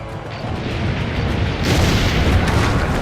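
Cannon fire booms in Assassin's Creed Brotherhood, heavy rumbling blasts that swell and overlap into a continuous loud roar.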